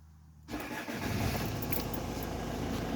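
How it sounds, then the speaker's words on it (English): A 2008 Hyundai Santa Fe 2.2 diesel engine cranks and fires after a quiet moment, then settles into a steady, loud diesel idle close by. "Start engine."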